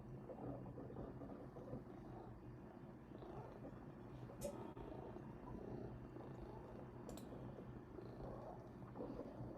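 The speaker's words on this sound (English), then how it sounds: "I hear like a cat purring or something" A cat purrs softly and continuously in a quiet room, a low, faint rumbling drone with two brief sharp clicks partway through.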